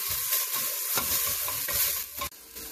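Vegetables sautéing in a pot while being cooked soft for a children's autumn squash soup, a steady close sizzle with scraping stirs and a brief dip near the end, no voices.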